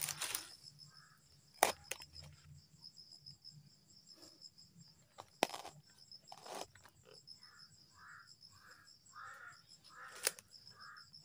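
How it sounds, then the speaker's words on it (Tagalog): Crows caw in a short series of harsh calls over a steady chorus of crickets, with a few sharp clicks, outdoors and moderately distant. "Yung uwak, tol, na maitim"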